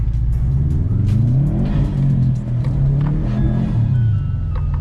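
A Subaru STi engine revs hard and loud while drifting through snow, its pitch rising and falling in continuous surges with no pauses and no talk.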